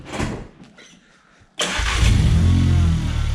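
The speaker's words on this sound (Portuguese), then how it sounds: "O carro é barulhento demais, velho." A homemade turbo flutter fitted to an old, noisy car: the engine cranks and catches with a sudden loud start after near quiet, then settles into a steady, heavy rumble close by.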